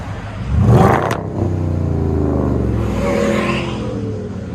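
2017 Jeep Grand Cherokee with a 5.7L HEMI V8, dual exhaust and Xlerator mufflers, revving close by: a sharp throaty blip followed by a sustained deep burbling rev that rises and settles, loud and alone.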